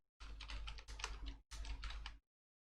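Code is typed on a computer keyboard in quick, dense bursts of clicking keys, two long runs separated by a brief pause, close and fairly loud, then silence.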